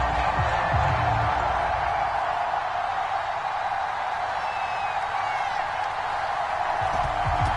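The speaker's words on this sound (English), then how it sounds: "Somehow this place got even louder a short time ago as the Falcons were introduced to this sellout crowd." A sellout stadium crowd roars in a football video game, a broad, constant wash of cheering and noise that fills the whole stretch without letting up, with a voice faintly present beneath.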